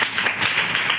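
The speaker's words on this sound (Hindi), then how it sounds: "एक बार जोरदार तालियां बजा दो इसके लिए।" Students clap together in a school setting: a short, dense burst of steady applause with no voices over it.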